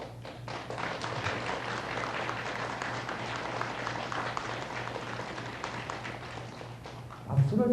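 Applause from the congregation at a Saturday Buddhist temple service: a continuous, even patter of many hands clapping, moderately distant, with a steady low hum underneath and a louder thump near the end.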